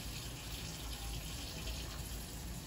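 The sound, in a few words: warm tap water running over frozen tomatoes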